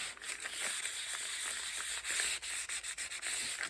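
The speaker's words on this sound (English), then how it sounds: "give it a nice just rubbing and then wipe it all off" Red Oklahoma clay being rubbed off dyed paper, a steady dry scratchy scrubbing close by with quick strokes and brief pauses toward the end, no voices.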